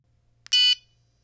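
A Tireboss tire pressure warning alarm on a truck gives a single short, bright electronic beep tone after a tiny click, loud and alone in a quiet cab.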